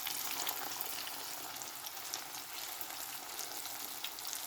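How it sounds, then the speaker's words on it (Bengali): Chicken pieces fry in a pan with a dense, continuous hissing sizzle, close and even for the whole stretch with no talk over it. "তো সেটা দিয়ে এখন চিকেন ফ্রাই করতেছি।"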